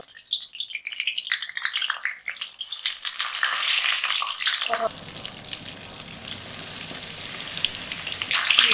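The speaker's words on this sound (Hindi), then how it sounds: "अब मैं इसे जो है फ्राई करने के लिए डाल देती हूँ। जी, तेल गर्म हो चुका है।" Batter-coated fish for Dhaka fried fish goes into hot oil, setting off a loud, crackling burst of sizzling that then settles into a steadier, softer fry with a low hum underneath.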